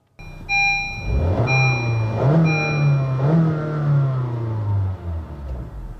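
A 2015 Honda Fit with a 1.5-liter engine accelerating on a drive, revving up through several gear changes with a mid-pitched engine hum and a few steady tonal chimes at the start.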